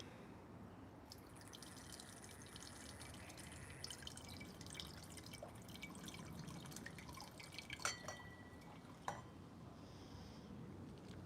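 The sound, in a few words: pouring dry wine into a glass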